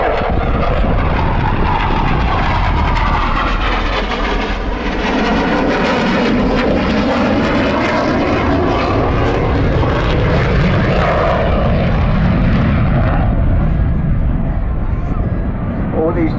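A Eurofighter Typhoon jet fighter performs tight turns at the Southport airshow, a loud, continuous roaring engine rumble that shifts in pitch as it passes, with a commentator talking over it.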